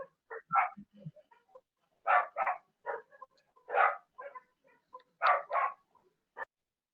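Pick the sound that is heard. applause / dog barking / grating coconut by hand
dog barking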